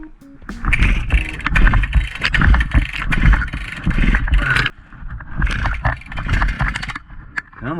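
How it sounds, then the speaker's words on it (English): A high-compression chainsaw on an Alaskan sawmill is pull-started repeatedly, with rough, rasping cord pulls and sputtering engine bursts in uneven surges, close and loud. "this saw is really not easy to start because it has so much compression"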